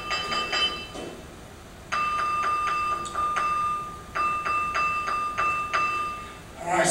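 An ancient stone artifact in a museum is struck about ten times in a steady rhythm, each hit giving a sharp, close, bell-like ring that hangs briefly before the next.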